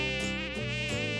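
Flies buzzing in a doll-play scene: a bright, wavering insect whine with shifting pitch, close and steady across a brief moment, with no voices.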